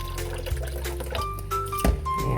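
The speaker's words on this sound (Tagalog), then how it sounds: "Lagyan natin ng tubig." Water pouring steadily into washed rice in a pot for biko with jackfruit, a continuous close splashing and gurgling stream with a brief louder splash near the end.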